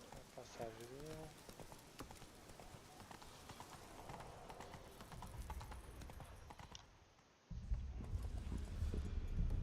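Horse hooves clip-clop in The Witcher video game, a quiet patter of steps under game sounds and a brief whinny-like tone early on, before louder background noise takes over near the end.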